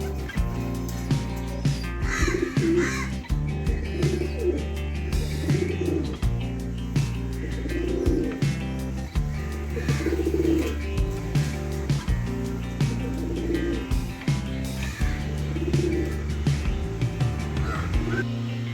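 Domestic country pigeons coo steadily in repeated soft, throaty phrases, close by and overlapping, with occasional other bird calls.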